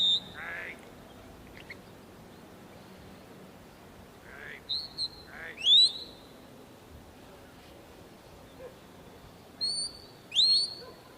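Shepherd's whistle directing a sheepdog at a sheepdog championship final: several short, sharp, rising and falling whistle blasts in clusters, fairly close and loud, with quiet outdoor air between them.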